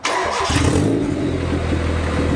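A small engine on a geet setup cranks and catches within half a second, then settles into a steady, loud idle rumble close by, with no talking over it.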